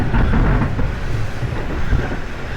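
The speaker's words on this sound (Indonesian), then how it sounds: "Mungkin ini karena kereta baru, jadi kayak masih keret gitu sih, kayak kurang lentur, masih kaku, kerok suaranya" Inside a new KA Parahyangan executive train car on the Bandung–Jakarta line, a dense steady rumble of the moving carriage fills the space, with rattling and faint creaks of the stiff new car body running continuously underneath.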